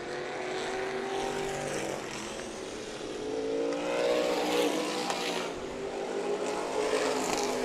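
Supermodified race cars roar around Meridian Speedway during the Diamond Cup, a steady dense blend of several engines whose pitch rises and falls as cars pass, continuous and fairly loud with no gaps.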